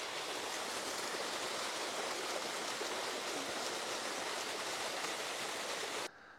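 A mountain stream of cold snowmelt water rushes steadily and densely, close and loud, as a continuous broadband roar that stops abruptly at the end.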